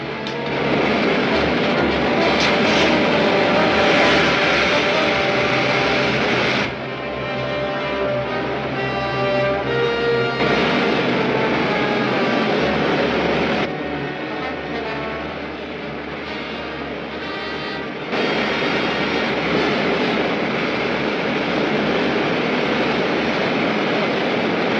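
A loud, sustained rocket jet roar fills the whole stretch, a steady rushing engine blast with brief breaks where the pitch and intensity shift.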